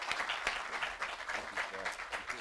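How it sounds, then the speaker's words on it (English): Sustained applause from an audience at a ribbon cutting ceremony for a biotechnology and student services center, dense steady clapping throughout with some voices mixed in. "Let's give him a round of applause"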